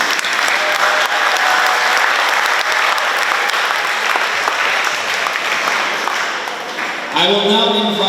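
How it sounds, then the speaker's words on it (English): Loud, sustained audience applause for awardees and an award committee at an education week ceremony, a dense crowd of clapping hands lasting about seven seconds before a voice speaks over the fading end. "Let's all give our awardees and the award committee a big round of applause."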